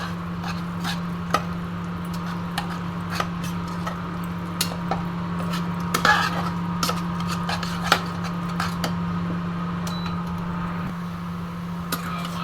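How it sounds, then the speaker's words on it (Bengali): A spoon scrapes and taps in a pan as paneer is stirred into a pointed gourd filling, soft repeated clinks over a steady stove hum and faint sizzle. "আমি পনিরটা দিয়ে এবার কিন্তু সবগুলোকে সুন্দর করে নাড়িয়ে চাড়িয়ে কিন্তু আবার আমি কষানো শুরু করে দেব"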